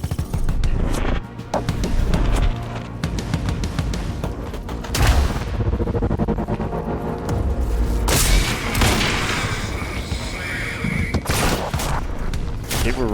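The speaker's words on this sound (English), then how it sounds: "They have grenade launchers." Grenade launcher blasts and gunfire boom through a firefight in the Quantum Break shooter game, loud and repeated, with heavy low-end explosions and rattling shots layered over one another.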